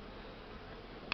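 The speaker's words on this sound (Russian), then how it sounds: "Ну вот уже видно, пчелки работают так." A steady, faint buzz of honeybees working around a beehive in an apiary, continuous and soft with a small tick near the end.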